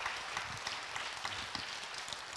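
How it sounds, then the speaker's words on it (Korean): Faint, distant applause from a church audience after a children's choir concert, a steady patter of many hands with no voices. "힘찬 박수 부탁드립니다."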